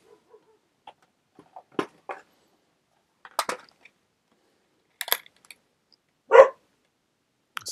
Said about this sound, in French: Ça y est, les chiens s'affolent.